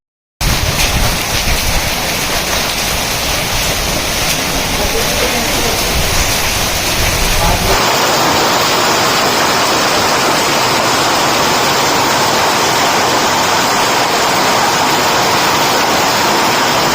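Heavy rain pours down with rushing runoff water after a hailstorm in Kekri, a loud, steady broadband hiss that continues unbroken throughout and turns a little brighter partway through.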